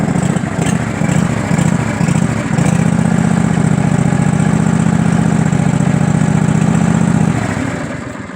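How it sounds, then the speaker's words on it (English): A lawn tractor engine on a cold start idles steadily with a low, rumbling drone, loud and close, running unevenly at first before settling into a continuous hum; it needs exhaust gaskets. "I'll demonstrate. This is a cold start."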